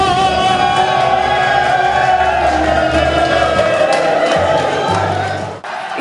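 A crowd of seafarers packed into the Sailor's Home Annex breaks into loud, dense cheering, shouting and applause, continuous and close, fading slightly near the end.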